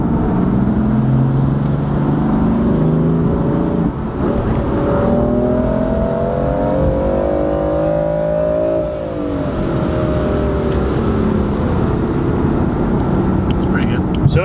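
A BMW M4 accelerating on a test drive, steady loud engine drone with rising and falling revs heard from inside the car, with people talking over it throughout.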